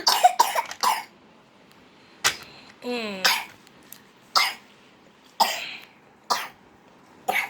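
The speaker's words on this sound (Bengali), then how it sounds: "মেয়েটার আবার খুব কাশি হয়েছে।" A little girl coughs in several short, sharp bursts spread across the moment, close and fairly loud, with a brief whiny vocal sound in between and quiet gaps.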